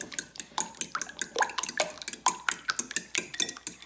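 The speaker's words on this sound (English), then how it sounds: "we're gonna use a fork and we're gonna stir this in." Banana bread batter stirred with a fork in a bowl, giving quick repeated clinks and scrapes of metal against the dish in a steady rhythm, close up with no talking.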